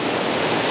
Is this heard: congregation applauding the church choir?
no